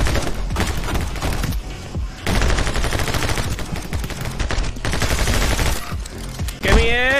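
Rapid gunfire from the action shooter game My Friend Pedro, with dense bursts of shots and booming impacts that come in waves, pausing briefly before the next volley, ending with a rising synthetic whine.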